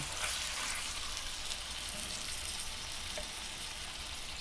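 Chicken liver sizzles steadily in a hot pan, a loud continuous frying hiss with scattered crackles and no speech.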